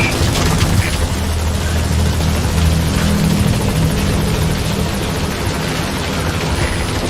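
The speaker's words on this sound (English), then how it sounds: "Support helicopter has arrived." A video game support helicopter from Metal Gear Solid V: The Phantom Pain hovers close and loud at the landing zone, its rotor thumping steadily with a dense engine roar throughout.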